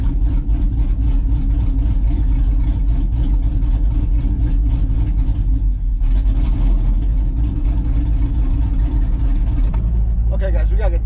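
Car engine runs loud and close at a rough, low idle, struggling to stay running, with a steady rumble throughout and brief talking near the end.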